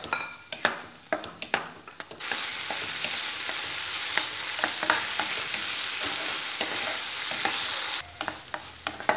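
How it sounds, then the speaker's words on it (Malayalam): Chopped tomato sautéing in hot oil in a pan, a steady loud sizzle running through the middle stretch with scraping stir strokes and spoon knocks before and after, no talking. "ഇതിലേക്ക് നമുക്ക് ഈ അരിഞ്ഞു വെച്ചിരിക്കുന്ന ടൊമാറ്റോ ചേർക്കാം. ഇത് നല്ല പോലെ ഒന്ന് വഴറ്റി കൊടുക്കാം."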